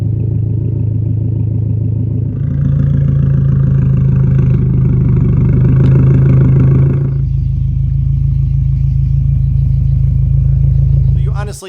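Subaru EJ engine with equal length headers, a loud, close, steady low rumble that swells as revs rise midway, then settles back to a lower drone before cutting off abruptly.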